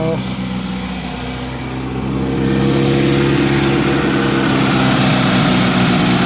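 Engine of a 35-year-old Geo Tracker running at a fast idle around 2,000 RPM, a steady loud hum with a rising tone partway through, heard up close under talking.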